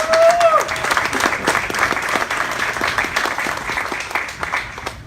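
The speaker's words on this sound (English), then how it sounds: "Please, please give them a warm round of applause." At a rally responding to a Supreme Court ruling upholding the Muslim ban, a crowd gives warm, sustained applause, loud and continuous, with a brief whistle near the start.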